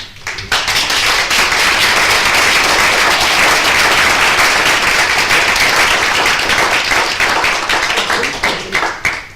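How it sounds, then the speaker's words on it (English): A room at a council business meeting bursts into loud, close applause for the police force, sharp individual claps merging into a steady ovation that tapers at the end. "Can we have a round of applause for the police force"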